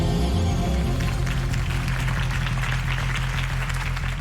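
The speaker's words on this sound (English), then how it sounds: "If only Mr. Wayne, my campaign's largest backer, could have heard that applause" Crowd applause in a Batman video game, following a campaign speech for Harvey Dent; dense, steady clapping and cheering fills the whole stretch at a loud, even level.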